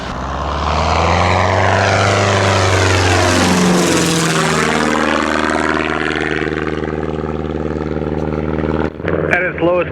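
A propeller airplane goes around low over a runway during an airspeed calibration flight, its loud engine and prop drone sweeping in pitch as it passes close and then recedes, ending with a brief clunk.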